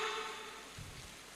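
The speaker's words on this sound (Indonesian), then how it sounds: "Alhamdulillah hujan" Steady rainfall, a dense even hiss of drops on surfaces with a brief low rumble partway through, heard alone without any talk.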